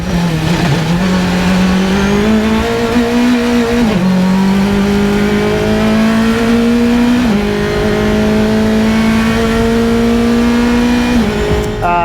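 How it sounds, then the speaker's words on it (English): An NP01 spec race car's Mazda 2-liter engine roars steadily and loudly, rising through the revs in several stepped pulls as it shifts up, with no voices. "This is a purpose-built spec race car."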